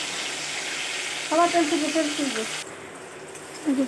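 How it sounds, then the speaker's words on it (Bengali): Tomatoes sizzle steadily in hot oil in a pan for a vegetarian dish. The even, close frying hiss continues throughout while a voice briefly talks over it. "টমেটো একটু ফ্রাই হলেই তারপরে দিয়ে দেবো আদা আর জিরে বাটাটা"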